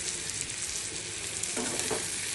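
Brinjal pieces fry in spiced oil for a garlic-free Bengali brinjal curry. A continuous close sizzle carries soft stirring through the short stretch.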